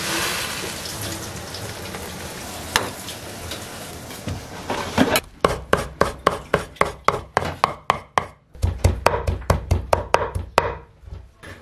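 A knife chops blanched wild shepherd's purse greens on a board for dumpling filling, a run of sharp, rapid, evenly spaced close chops following a stretch of wet, rustling handling.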